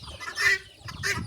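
Free-range country chickens cluck in short bursts as they emerge one by one from the shed where they spent the night on an organic farm, the hen calls fairly close and lively with no talking.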